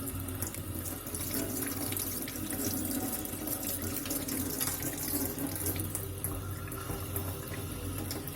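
Water gushes steadily from a mixer tap just opened after its cartridge was replaced, a continuous close splashing rush into the sink with no talking.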